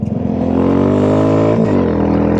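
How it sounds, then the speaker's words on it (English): A Royal Enfield Classic 350 motorcycle engine revs briefly between gear changes on a snowy street, a loud, close, steady thumping drone that dips for a moment and then climbs again. "we got a little spin between gears there"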